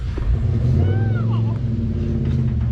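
The off-road vehicle Mischief Maker rumbles with a loud, close engine, holding a steady low drone with a brief rise, while voices talk over it.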